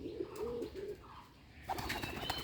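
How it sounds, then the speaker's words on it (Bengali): A silver pigeon gives a few soft, separate coos, then fainter rustling and scratchy movement follows, close by and quiet. "দেখুন এটা হলো সিলভারের কবুতর"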